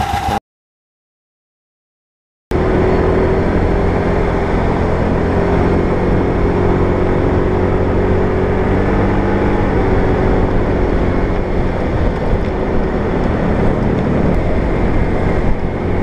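A Yamaha Mio Z motor scooter fitted with NMax clutch shoes rides and accelerates, its engine drone rising in pitch under heavy wind rush after a brief silent gap at the start.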